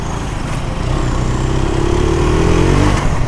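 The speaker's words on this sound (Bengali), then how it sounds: "এদিক দিয়ে বাইক উঠায় দেই।" A Terra 150 motorcycle engine labours up a hill, a steady close droning hum that grows slightly louder and strains as it climbs.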